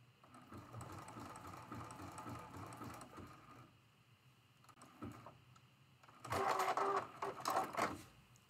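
A sewing machine runs a short test zigzag stitch, bringing the stitches closer together while setting length and width for a traditional quilt block. The machine whirs steadily and close, pauses, then makes a louder final burst.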